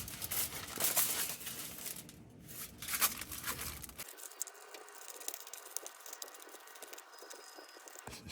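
Aluminum foil crinkles and crumples as it is molded by hand, with dense crackling for the first four seconds, then sparse faint rustles and taps near the mic, no talk.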